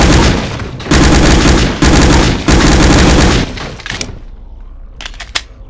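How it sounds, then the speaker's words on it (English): Sustained machine gun fire in Garry's Mod, loud rapid automatic bursts in three long strings with short gaps, then trailing off into quieter scattered clatter and a last sharp report. "Thankfully, this machine gun has a large clip to it."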